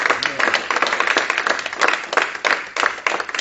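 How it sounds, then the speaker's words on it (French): A church congregation claps in a lively burst, many hands close together in an uneven rhythm that swells and dips throughout. "Acclamons le Seigneur pour sa bonne parole."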